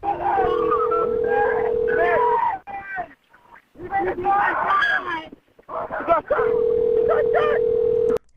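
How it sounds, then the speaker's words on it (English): On an emergency 911 call, two long, steady ringback tones sound with a pause between them, heard over loud howling and yelping from a dog and a chaotic background. "Why is 911 ringing twice, 3 times, 4 times?"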